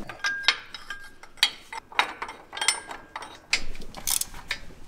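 A 10 mm socket on a ratchet clicks in quick bursts while removing a bracket during a 2-inch lift kit install on a Jeep JL Wrangler, near and crisp with brief pauses between strokes, no talk.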